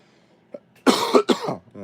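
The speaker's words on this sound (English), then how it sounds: "sorry if I'm coughing a lot" A few harsh coughs in quick succession, close and fairly loud, with a brief throat sound before them.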